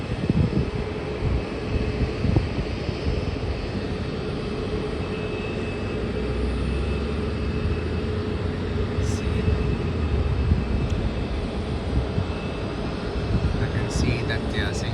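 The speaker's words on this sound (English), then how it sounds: "See that the Singapore Airlines is making its way slowly to the gates." A Singapore Airlines airliner taxiing slowly to the gates of an airport at night, heard as a steady, continuous jet engine roar with a faint distant hum and no clear changes.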